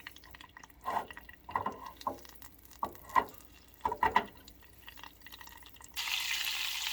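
Sauce melting in a pan makes soft, sparse pops and bubbling ticks at an irregular rhythm, faint and close, followed by a steady sizzling hiss near the end.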